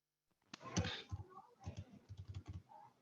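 Typing on a computer keyboard during an online meeting, a close burst of quick, irregular key clicks at moderate level with short pauses, no voices over it.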